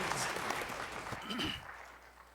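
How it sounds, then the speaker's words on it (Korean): Applause from a church congregation during Sunday worship, a broad, steady wash of clapping that fades toward the end, with some voices mixed in. "박수로 하나님께 드리겠습니다."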